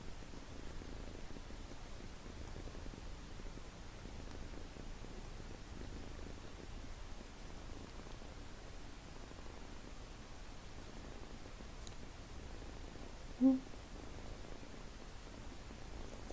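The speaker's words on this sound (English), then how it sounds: "you guys hear the purring?" A cat purrs as a low, soft, continuous rumble, faint and close, with quiet hissy background noise and one brief tap near the end.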